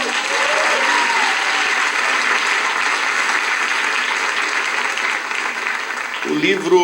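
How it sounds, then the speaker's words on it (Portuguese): A church congregation at a 2019 Brazilian evangelical event applauds in a thick, continuous wash of clapping with crowd voices mixed in, fairly loud and even from start to finish. "O nosso amigo, querido pastor Cote, queria que você desse uma salva de palmas"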